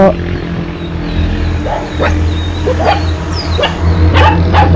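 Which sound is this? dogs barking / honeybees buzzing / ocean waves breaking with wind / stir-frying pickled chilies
dogs barking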